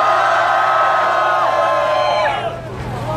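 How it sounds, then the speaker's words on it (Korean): A street crowd at a 2017 presidential candidate's campaign greeting at Korea University cheers and shouts loudly for a few seconds before the noise drops off. "유승민 후보를 위해서 5초간 함성"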